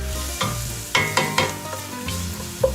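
Chopped onions sauté in olive oil with a little salt for a minestrone soup, sizzling steadily while a utensil stirs them in several distinct scraping strokes close by.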